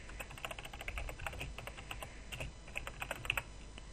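Rapid, close keystrokes clatter on a computer keyboard in uneven bursts as text is typed, quiet and alone without speech.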